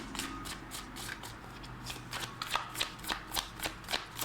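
Tarot cards being shuffled before a draw, a close riffling and flicking of the deck in a quick rhythmic series of crisp bursts that grow slightly more distinct toward the end.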